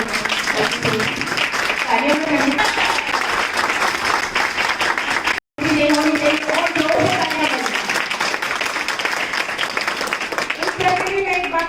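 Loud, sustained applause from a crowd, clapping steadily with a brief break, while a voice speaks over it through a sound system.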